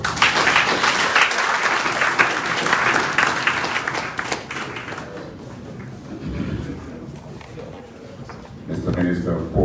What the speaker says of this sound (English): We need to give them an applause.